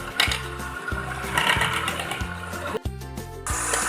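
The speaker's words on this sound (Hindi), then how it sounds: "ये देखिए बीट कर रही है। ये क्रीम इतना बीट करनी है फिर झाग से बन जाए" An electric hand beater whips cream for homemade strawberry ice cream, a steady close motor whir with a rhythmic pulsing hum and rattle that runs throughout the clip.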